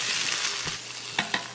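Onions frying in a pan, a close and even sizzle that runs throughout, with two quick scrapes of a stirring utensil near the end.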